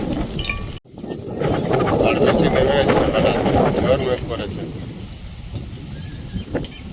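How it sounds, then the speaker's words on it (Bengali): Steady, dense rushing noise of heavy rain fills the scene after a brief cut, gradually easing toward the end. "ভীষণ জোরে বৃষ্টি এসেছে"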